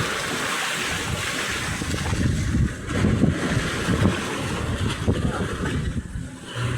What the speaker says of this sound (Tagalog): Nagsisimula na naman ang hangin at alon na lumakas.